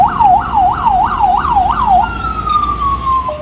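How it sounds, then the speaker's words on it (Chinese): An ambulance siren wails loudly at an intersection, running a rapid rising-and-falling yelp for about two seconds before switching to a long steady descending tone over traffic noise. "救护车鸣笛行经路口"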